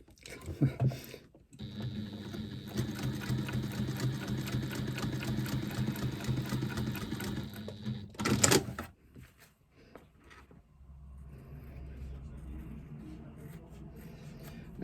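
A sewing machine runs a long-stitch seam through faux leather, a steady rapid mechanical chatter lasting about six seconds, close by, followed by a brief clunk and quieter handling noise, with a person talking nearby.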